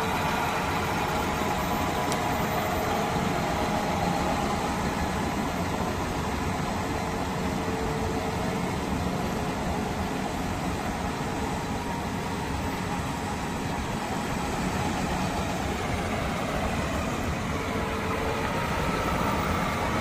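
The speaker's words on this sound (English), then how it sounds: "Now we're just going to show you this IVT in action." A 2019 John Deere 8320R tractor with an IVT transmission runs with a steady, unbroken engine drone that holds an even level for the whole stretch, with no voices over it.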